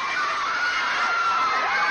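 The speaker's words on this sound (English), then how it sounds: "It's a girl screaming." A large crowd screams without pause at a Justin Bieber event, a dense, loud, high-pitched wall of shrieking voices that holds steady throughout.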